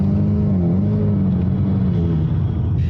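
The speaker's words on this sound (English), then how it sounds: "And the car will launch in second gear." A Ford Mustang S550 with a 10-speed transmission launches in second gear, its engine giving a loud, close, deep rumble that holds steady and rises slightly in pitch as the car pulls away.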